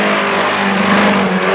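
A Niva off-road race car pulls away for another lap, its engine droning steadily and loudly up close, a continuous mid-pitched roar with slight rises in revs throughout.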